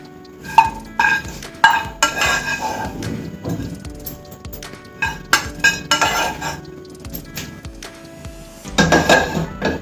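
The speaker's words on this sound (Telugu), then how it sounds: "ఇప్పుడు మనం వేయించుకున్న మిశ్రమాన్ని ఇందులో వేసేసుకుంటాము." A spoon scraping a fried mixture into yogurt chutney for potlakaya perugu pachadi: repeated metallic taps and scrapes against a bowl in an uneven rhythm, close and fairly clear, with a busier clatter at the end.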